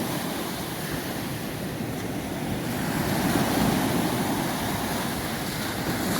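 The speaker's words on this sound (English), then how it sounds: "Waves a little bit bigger down this end," Caribbean surf breaks on a coral reef off a Dominican Republic beach at Juan Dolio, a continuous rushing roar with wind noise that swells slightly midway, with no voices.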